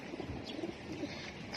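Soft cooing of a pigeon or dove repeats a few times over a steady outdoor hiss.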